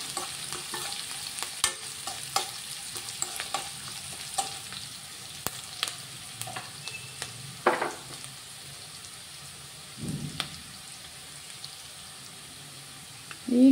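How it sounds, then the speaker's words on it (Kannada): Ingredients for a kabuli chana dish fry in a pan with a continuous crackling sizzle, punctuated by sharp ladle clicks and scrapes and a couple of louder stirring bursts. "ಎಲ್ಲ ಫ್ರೈ ಮಾಡಬೇಕೀಗ."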